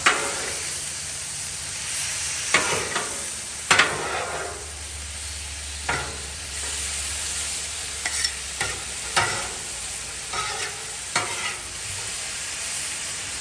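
Chicken fried rice sizzling on a Blackstone flat-top griddle while being stirred and mixed, a steady frying hiss punctuated by repeated scraping and clanking of metal spatulas, close and clear with no talk.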